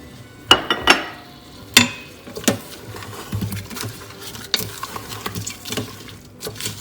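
A spoon stirs vegetable pulao with added salt, Shahi Pulao masala and sugar in a pot, giving a few sharp clinks and knocks early on, then softer, uneven scraping and mixing close by, with no talking.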